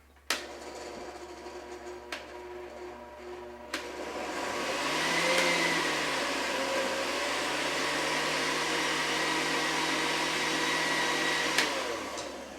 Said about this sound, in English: Actually, this is a blender, not a food processor.